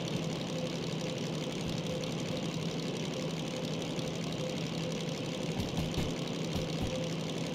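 A DM3 diesel locomotive in Derail Valley runs under throttle, its engine chugging in a steady, loud, knocking rhythm that holds constant for several seconds with no talk over it.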